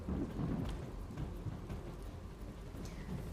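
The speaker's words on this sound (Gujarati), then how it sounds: "વીજળીના કડાકા ભડાકા સાથે વરસાદી માહોલ જામ્યો છે" Monsoon rain falls steadily in Dahod, Gujarat, while low thunder rumbles and rolls underneath through the whole stretch, a continuous dense wash of rain with a deep, distant-sounding storm.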